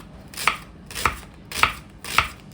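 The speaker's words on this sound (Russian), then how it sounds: "Так, я его нарезаю." Four evenly spaced knife strokes slicing through a firm eggplant onto a board, each a crisp thud, steady rhythm, close by, no voices.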